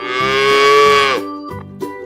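A cow gives one long, loud moo lasting about a second, then shorter grunting lows follow, close and clear with no talk over it.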